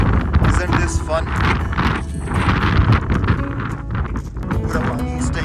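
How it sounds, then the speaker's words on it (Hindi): Strong wind gusting near Canada's tallest lighthouse at Cap-des-Rosiers during snowfall, loud buffeting across the microphone with rough bursts, while a person talks over it. "बहुत तेज हवा भी चल रही है"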